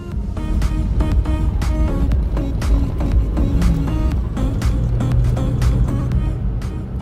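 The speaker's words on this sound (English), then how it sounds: "You can hear how crazy that motor sounds trying to get up this mountain." An off-road rig climbing a snowy mountain at Windrock Park, its motor loud and straining in a steady drone, with a rattling, revving texture throughout and no speech.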